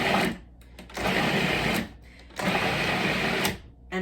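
Food processor blending roasted red pepper hummus, running in three loud whirring bursts separated by short pauses, close and without talk.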